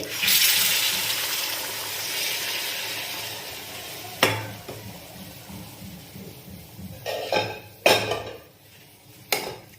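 Hot water goes into a simmering Odia prawn and potato curry in a pan, raising a loud hissing sizzle that slowly fades, with several sharp clatters of a spoon against the pot and no voices.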